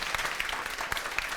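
Brief, fairly quiet applause from an audience for a panel at a live cancer show, a short burst of scattered individual claps.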